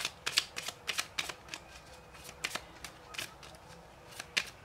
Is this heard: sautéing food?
no